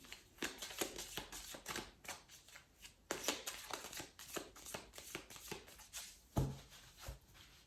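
A deck of angel oracle cards is shuffled and cut by hand, with a rapid run of soft riffling flutters and slaps, quiet and close, ending in a firmer tap.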